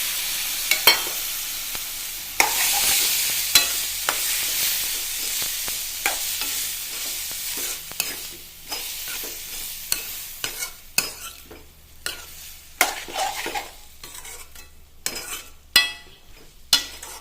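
Cooked cowpeas (vanpayar) stirred in a hot pan, a continuous sizzle broken by repeated sharp spoon-on-pan scrapes and clinks that grow more frequent toward the end, close by, with no talking.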